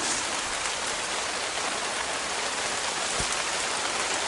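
Steady rain pours down outdoors at an oil palm plantation during fruit harvesting, a dense, even hiss of drops close by with no breaks and no talking.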